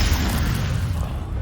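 A Confringo spell explodes in Hogwarts Legacy, a heavy, close, low booming blast that rumbles on for over a second without a break.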